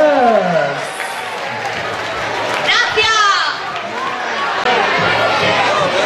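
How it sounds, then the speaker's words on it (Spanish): Crowd applause for the Sandy Bears murga at a carnival tent in Zalamea de la Serena, steady dense clapping mixed with chatter and voices throughout. "fuerte aplauso para los Sandy Bears"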